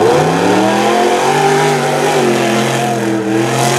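A strong race truck's engine revs hard through a rough truck race, a loud continuous roar with rising and falling pitch sweeps, close and steady throughout.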